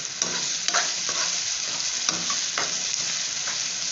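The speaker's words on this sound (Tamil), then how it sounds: "இப்போ வெங்காயம் தக்காளி மசியத்துக்காக நம்ம கோர்வையாக போடுறோம்" Onion and tomato sauté in a pan, a constant close sizzle broken by repeated scraping stirs of a utensil every half second or so.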